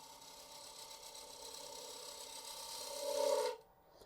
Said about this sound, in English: let's come in here with my spindle gouge and just ease into that curve